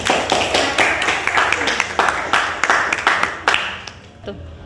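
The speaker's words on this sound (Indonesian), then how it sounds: "kita tepuk tangan untuk kedua temannya" Students in a classroom clap together for two classmates, a dense run of hand claps that holds steady for several seconds before thinning out and fading near the end.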